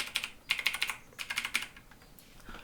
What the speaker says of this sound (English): clicky switches work the same way as linear switches, but they have more of a click to it